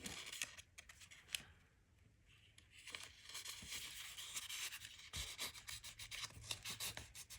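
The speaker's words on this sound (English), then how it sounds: "I'm hoping if I just trim off this border, maybe it will fit." Scissors snip and rub through paper while a border is trimmed off a junk journal page, several close, crisp cuts with soft rustling between them, no talk.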